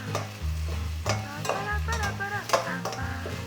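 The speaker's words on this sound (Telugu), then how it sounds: "మంచిగానే ఫ్రై అవుతుంది." Fish frying in a pan for curry gives a soft, steady sizzle under background music, with occasional light clinks from the pan.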